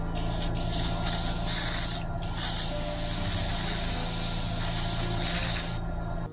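A steady, close hiss of spray paint on a small swimbait fishing lure runs almost continuously, with a few brief breaks and slight swells in loudness.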